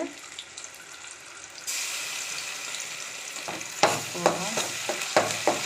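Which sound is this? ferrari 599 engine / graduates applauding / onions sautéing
onions sautéing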